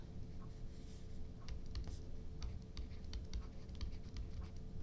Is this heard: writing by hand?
yes